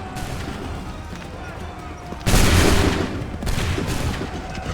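Musket volleys from a line of soldiers in the Assassin's Creed 3 video game, two loud broadband bursts of massed firing standing out over ongoing battle noise.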